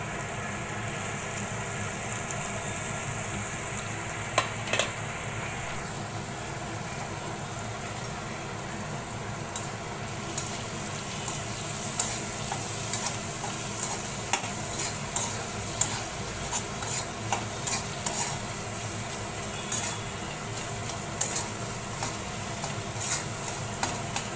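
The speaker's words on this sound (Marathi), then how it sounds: "चांगलं परतून घेतलंय बघा चांगला मस्त परतून घेतलाय" Clams and onions sautéing in oil, a steady dense sizzle throughout with intermittent clicks and scrapes of stirring.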